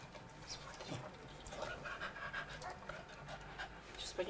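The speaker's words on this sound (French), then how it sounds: "Elle vit avec sa chienne" A female dog living with a woman in Kamchatka pants steadily and rapidly in the heat, a quick rhythmic breathing close by, while a voice talks over it.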